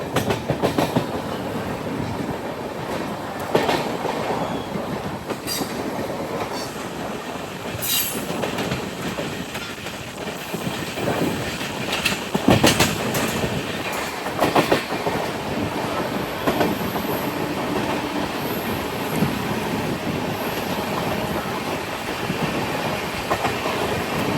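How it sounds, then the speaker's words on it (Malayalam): A train pulls into Ernakulam Junction railway station, its wagons rumbling steadily with clickety-clack over the joints and brief wheel squeals, heard close and continuous for the whole stretch without voices. "ട്രെയിനിൽ ഇതാ എറണാകുളം ജംഗ്ഷൻ റെയിൽവേ സ്റ്റേഷനിലേക്ക് എത്തുകയാണ്"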